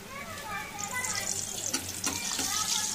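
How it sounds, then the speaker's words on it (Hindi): Bhatura dough hits hot oil in a kadhai and sizzles with a bright, bubbling hiss that swells over a few seconds, while a voice speaks over it. "तब फिर हम इसको कढ़ाई में तेल में डालेंगे"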